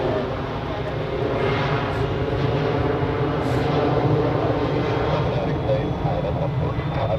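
An Embraer 190 jet departs the runway at Zurich Airport on a Tuesday evening, its engines making a steady, broadband roar that holds at even loudness throughout, heard from a distance.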